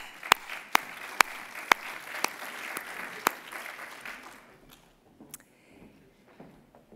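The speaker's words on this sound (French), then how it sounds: "On peut les applaudir." A small audience at an official session claps, sparse sharp individual claps over a light patter that fades after about four seconds into quiet room noise with a few stray sounds.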